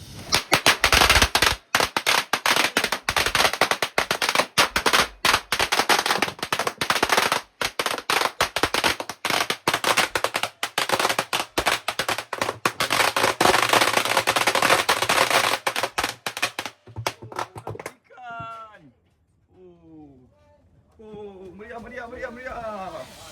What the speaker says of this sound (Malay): Mulakan dengan mercun